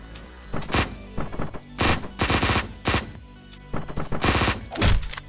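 Gunfire in the video game Hotline Miami 2, with repeated loud bursts of rapid automatic shots in clusters separated by short pauses, punchy and close, with no voices.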